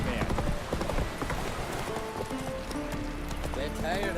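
Horse hooves clip-clop at a fast, steady gallop in The Witcher 3 video game, close and loud over ambient game sound, with a brief whinny.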